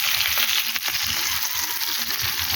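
Cooking over a clay stove on an open rooftop, with a steady loud hiss like frying and crackling that continues without a break and stays close, with no voices.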